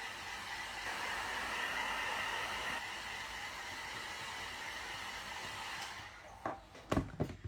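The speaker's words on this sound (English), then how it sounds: "I'm going to use my hairdryer because it's not quite as heavy. So it's going to be noisy" A hairdryer blows steadily at close range to dry paint, a constant airy roar that cuts off near the end, leaving a few sharp knocks and handling sounds.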